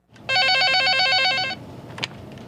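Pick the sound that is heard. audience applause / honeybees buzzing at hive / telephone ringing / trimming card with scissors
telephone ringing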